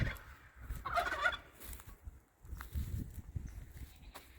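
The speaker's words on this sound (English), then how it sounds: "The chicken coop is back opened up, and the chickens are all out" Turkeys gobble and chickens cluck in a farm pen, with a close gobbling burst early and scattered clucks and shuffling through the rest, moderately faint against outdoor background noise.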